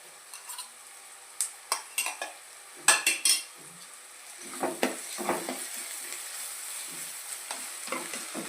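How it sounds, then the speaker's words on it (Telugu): Ginger garlic paste fries for a mutton curry, a soft steady sizzle broken by sharp clinks and scrapes of a spoon stirring against the pot. "అల్లం వెల్లుల్లిపాయ పేస్ట్ వేస్తున్నారండి."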